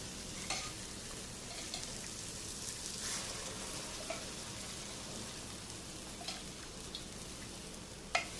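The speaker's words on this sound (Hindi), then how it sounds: "अब हम डालेंगे इसमें उबली हुई दाल।" Boiled dal hits a hot tadka for dhaba-style dal fry and sizzles in a steady, even hiss with faint crackles and occasional stirring clinks throughout.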